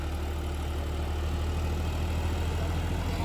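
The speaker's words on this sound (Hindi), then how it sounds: "आप ट्रैक्टर की आवाज सुन लो, ट्रैक्टर में कोई भी ड्रॉपेज नहीं है बिल्कुल भी।" A John Deere tractor engine, 5405 or 5210 model, runs steadily with a low, continuous rumble and no audible knocking, loud and close with no talking.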